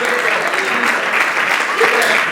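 A church congregation at a crusade-style worship event applauding loudly and steadily, a dense wash of clapping hands filling the space without pause, with voices and cheers mixed in.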